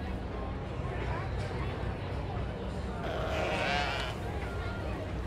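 Sheep bleat a few times amid a noisy barn at the Minnesota State Fair, with people chattering nearby.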